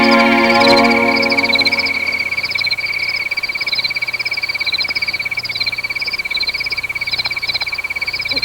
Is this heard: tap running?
no